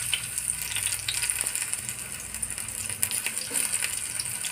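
Crushed garlic dropped into hot oil left from frying potatoes gives a steady, close frying hiss with small crackles and pops throughout, no voices.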